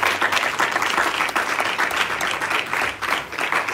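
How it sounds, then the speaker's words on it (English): Audience applause fills a university lecture-hall event celebrating a newly launched campus club, with dense, steady clapping from a crowd sustained throughout at close range. "Give yourself a round of applause."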